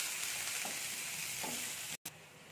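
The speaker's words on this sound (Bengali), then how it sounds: "পেঁয়াজটাকে আমি একটু হালকা করে ভেজে" Chopped onions frying lightly in a pan, a steady soft sizzle running throughout with a couple of faint stirring scrapes, briefly cutting out near the end, no voices.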